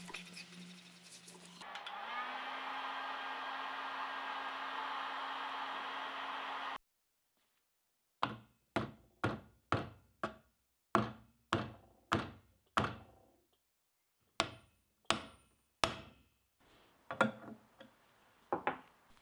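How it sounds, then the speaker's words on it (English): A ball joint press working on a car control arm, first a steady grinding drone for several seconds, then a series of about fifteen sharp, loud clicking thunks at an uneven rhythm, close up with no talk. "The ball joint press does a great job here at bending the control arm."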